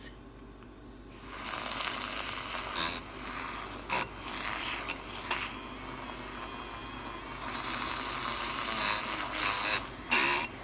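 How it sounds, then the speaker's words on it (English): A hand-held whisk beats eggs in a bowl, one-handed until fluffy, giving a steady rapid scraping and rubbing close by with a few louder knocks against the bowl. "I will never again use another whisk for eggs."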